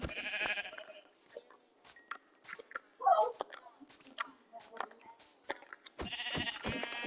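Sheep bleat briefly in the blocky sandbox game Minecraft, a short burst in the middle of the clip amid quiet game sounds, with low voices and whispering under it.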